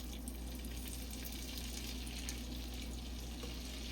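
Water poured into a hot pan holding lamb chop drippings sizzles and hisses in a steady, dense crackle, with no talking.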